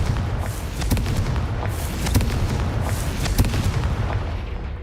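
A Confringo explosive spell from Hogwarts Legacy goes off as a heavy, rumbling blast, with short booming bursts over a dense low roar and no voices.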